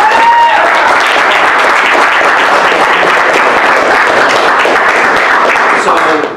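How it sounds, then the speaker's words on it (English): Loud, sustained audience applause at a comic-book convention panel, dense clapping filling the room for several seconds before tapering off at the end. "Let's have a big round of applause for Christos."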